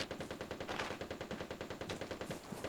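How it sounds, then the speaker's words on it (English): Automatic gunfire in the video game Vigor, rapid, evenly spaced bursts behind the listener, fairly faint and distant, continuing with a brief pause in the middle. "gunshots occur behind me."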